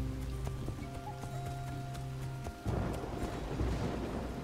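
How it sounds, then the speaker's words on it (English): Rain falls in the survival game Soulmask. A steady tonal backdrop plays at first, then a dense, hissing patter of rain swells in past the midpoint and continues to the end. "So it's raining."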